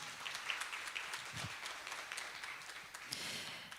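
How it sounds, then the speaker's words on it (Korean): Audience at a 2023 international copyright technology conference opening ceremony claps steadily for the keynote and invited speakers, a dense even applause lasting the whole stretch with no talk. "감사의 의미로 한 번 더 박수 부탁드리겠습니다"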